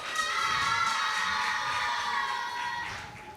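An audience greets a children's team from a mosque at a holiday-camp semi-final with continuous, loud crowd cheering and high children's shouts and whistles, sustained throughout and tapering slightly at the end.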